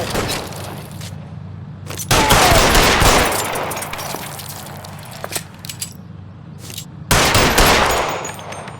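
Loud gunfire in an L.A. Noire shootout, with heavy bursts of rapid shots and booming hits separated by a stretch of lighter scattered shooting and echoing tails.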